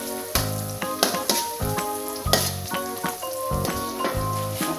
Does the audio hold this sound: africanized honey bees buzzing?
no